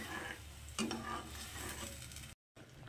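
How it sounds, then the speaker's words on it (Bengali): Urad dal boiling in a pressure cooker with water, giving a faint, steady bubbling hiss over a low hum, with one brief cut to silence near the end. "তো দেখুন এবার ডালটাকে আমি একটু ফুটতে দেব।"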